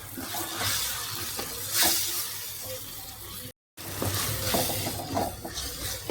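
Tomatoes with chili powder, turmeric and salt sauté for kurma, making a close, soft, continuous sizzle with light stirring scrapes and a brief silent gap midway.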